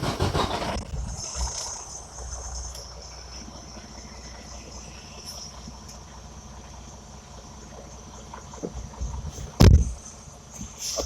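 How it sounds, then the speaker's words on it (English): A truck engine starts during a driving lesson, then settles into a steady, low idle rumble that continues quietly, with a brief loud thump near the end. "Now I can start the engine."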